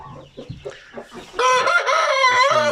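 A giant rooster crows loudly and close, a long sustained call that follows a few short clucks and scattered bird noises.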